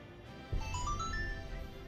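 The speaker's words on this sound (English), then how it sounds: "My phone keeps going off." A phone goes off with a faint rising chime of several short tonal notes stepping upward over a low background hum.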